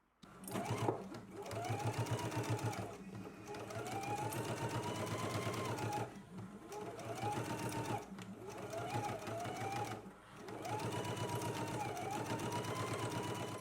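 A home sewing machine stitches a garment collar from one marked dot to the other, running in steady close whirring bursts with short pauses between runs, under someone talking.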